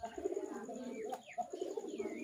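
Domestic pigeons with clipped wings coo close by in a steady run of low, throaty, overlapping calls, with a few thin chirps above.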